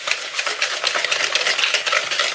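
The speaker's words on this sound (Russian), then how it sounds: "Одно яйцо. И хорошо все взбиваем." An egg with a pinch of salt is whisked briskly in a bowl for sesame cookie dough, the whisk clicking in a quick, steady, close rhythm that runs throughout without pause.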